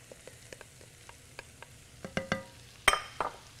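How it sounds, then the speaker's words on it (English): Sliced mushrooms go into a hot pan of chicken Marsala sauce, where they sizzle and fry with scattered clinks and stirring scrapes that grow louder toward the end; no one speaks. "Now we're gonna put the mushrooms."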